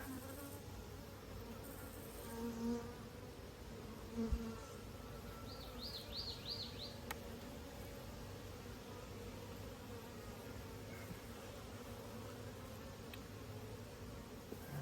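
Honeybees from an opened hive of Saskatraz stock buzzing steadily and softly at close range, a continuous insect drone with no talk over it.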